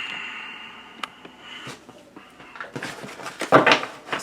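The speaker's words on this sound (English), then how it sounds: "Let's shuffle it." A tarot deck with art-paper cards is shuffled by hand; quiet handling and faint taps give way to a denser, louder burst of riffling card flutter near the end.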